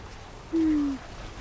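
A single drawn-out owl hoot from the ambient soundscape of the video game Diablo IV, one clear tone rising briefly above a faint, rain-like background hiss.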